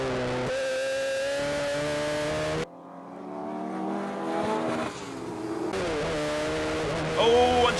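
A Honda S2000-powered race car screams past at speed on a wet circuit, its high engine note rising and then dropping away, with another car's wail following behind and a commentator talking over it.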